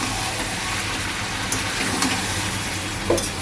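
Chicken cooking in a pan gives a dense, continuous sizzle as it is stirred, with a few faint scrapes and knocks of the utensil against the pan.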